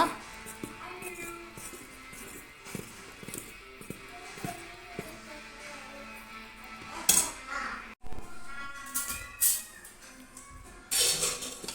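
Vattayappam batter being mixed in a bowl, with a steady scraping stir and repeated light clinks of a utensil against the bowl, close up, growing louder and busier toward the end.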